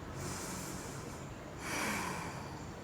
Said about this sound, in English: Take a full breath in.